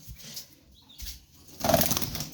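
A quail kept in a coop flaps its wings in short bursts, a soft flutter early on and then a louder, closer rustling flurry near the end, with no talking.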